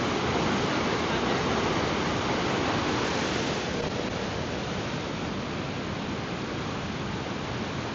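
Creek water rushes over boulders in a steady, dense roar, close and loud and unbroken throughout.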